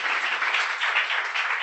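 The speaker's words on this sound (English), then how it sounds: "So give yourself a round of applause for making it." Audience applause at a Freedom Friday event, steady clapping from a crowd filling the room, even and sustained throughout with no voices over it.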